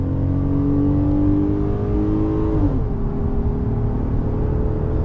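A 2025 Ram 1500 pickup with a V6 engine accelerates hard from a standstill toward 60 mph, its steady engine drone rising to about 6,000 RPM before a gear change, heard from inside the cabin.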